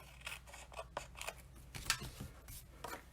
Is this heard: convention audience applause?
no